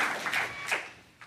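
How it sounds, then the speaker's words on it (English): A short burst of audience applause, a few scattered claps fading quickly. "a round of applause"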